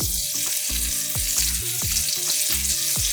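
Butter and olive oil sizzle steadily in a hot pan, a bright continuous hiss with soft stirring knocks and clatter breaking in at regular intervals throughout.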